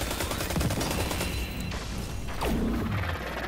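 Rapid gunfire from the video game Destiny 2 in a dense, continuous barrage, with crashing impacts and whooshing effects layered on top, loud and sustained throughout.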